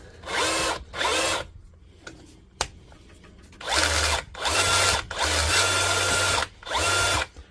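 A faulty DeWalt SDS hammer drill that runs without hammering whirs in about six loud, close bursts separated by short pauses, with a sharp click in one gap.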